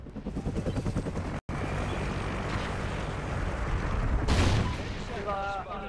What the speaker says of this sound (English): He needs to calm down with his choppers.